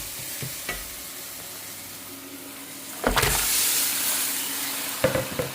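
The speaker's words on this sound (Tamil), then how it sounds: "இதை நல்லா கிண்டி விட்டு வந்துடலாம்" Meat curry being stirred in a frying pan, with a close steady sizzle under several loud scraping stirs and clatters of the utensil against the pan, no talk.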